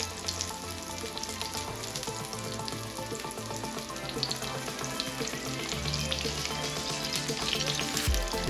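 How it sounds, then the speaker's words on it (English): Zucchini sizzles and fries steadily in olive oil in a pan, a continuous crackling hiss at moderate level with no talking. "They have been bathing in olive oil for some time now, sizzling and cooking and getting perfectly golden."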